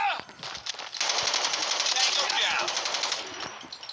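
Rapid automatic gunfire in a shooting video game, a dense, loud burst of machine-gun fire lasting several seconds, preceded by a few scattered shots, with a voice speaking over it.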